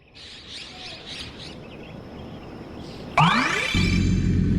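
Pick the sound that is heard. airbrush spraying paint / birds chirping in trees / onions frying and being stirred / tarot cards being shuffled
birds chirping in trees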